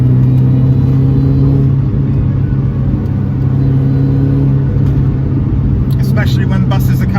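An R53 car accelerates along a national-speed-limit B-road. Its loud, sustained engine drone and road rumble run throughout, and faint voices come in briefly near the end.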